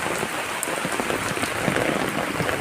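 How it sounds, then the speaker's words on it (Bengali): Heavy rain pours on a wet morning, a dense continuous patter of drops drumming on surfaces close by, with no voices. "আবারও জোরও হচ্ছে বৃষ্টিটা"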